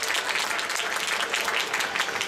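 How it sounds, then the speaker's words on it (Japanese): Applause from the crowd at an indoor junior athletics meet, before the men's junior 60 m B final, a steady dense wash of clapping held at an even level throughout. "さあ、大阪以外の選手にも大きな拍手をお願いいたします。"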